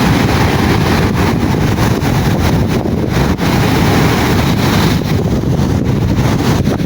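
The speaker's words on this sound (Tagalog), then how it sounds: "Ano, laking alon yun." Large sea waves surge and splash against rocks near a cave on the coast at high tide, a loud continuous roar of water mixed with wind buffeting the microphone.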